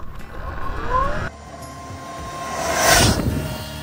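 A 2024 Surron X electric dirt bike accelerating toward top speed, a rising motor whine with wind roar that swells and peaks near the end, fairly close and with no talking.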